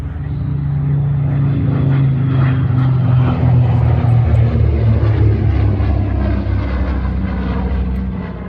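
Propeller aircraft at Duxford Imperial War Museum, a loud, steady droning engine roar with strong low harmonics that holds evenly throughout, close by and without pause.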